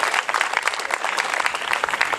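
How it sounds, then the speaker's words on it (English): An audience at a Tea Party gathering in Dover, New Hampshire applauds, with dense, close, steady clapping filling the whole stretch. "Everybody, a round of applause for Omar Ahern."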